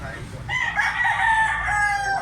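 A young rooster (stag), a black-legged White Hackle bird, crows once in a long, drawn-out, fairly close call over faint background murmur.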